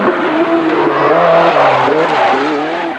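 A Renault 5 Turbo rally car slides sideways through a bend on a special stage, engine roaring loud and close with continuous tire squeal rising and falling across the drift.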